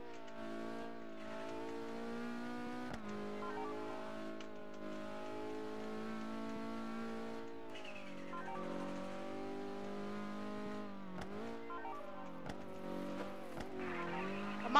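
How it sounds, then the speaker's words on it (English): Racing car engine in a Roblox driving game, a sustained whining tone that shifts pitch as it revs up and down over the whole stretch, with a tire screech possible near the end; no talking. "I'm gonna make this the fastest car ever."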